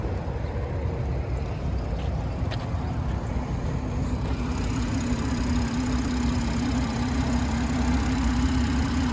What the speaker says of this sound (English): And it's a 3-liter turbocharged engine.